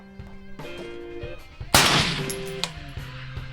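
A single sharp, loud SCAR 20S rifle shot rings out at an outdoor shooting range, with a long decaying echo rolling away afterward and faint clanks around it.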